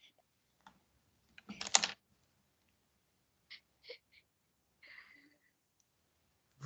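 Scattered keyboard typing in a quiet classroom, with a short burst of clattering keys followed by a few isolated taps and soft clicks separated by silence.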